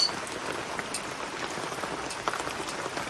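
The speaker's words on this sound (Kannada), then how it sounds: "ಮಳೆ ಬಂತು ನೋಡಿ, ಇದು ಬಿಸಿಲಿತ್ತು, ಇವತ್ತು ಮಳೆ ಬಂತು." Steady rain falls outdoors, a close, even patter and hiss of drops on surfaces running continuously with no talking.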